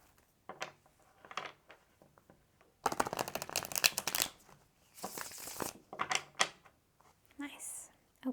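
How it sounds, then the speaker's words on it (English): Tarot cards are shuffled in quick riffling bursts, close and crisp, with a longer flurry of shuffling in the middle and softer handling noises between, while a voice talks faintly. "Let's do one more shuffle."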